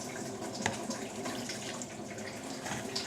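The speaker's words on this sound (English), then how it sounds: "We need more water to water down the borax." Water runs from a tap into a borax slime mixture in a continuous steady splashing stream, close and alone with no voices.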